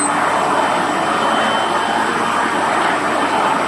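Aircraft engine roaring in flight as a plane speeds toward the ocean, a loud, steady broadband roar with no break.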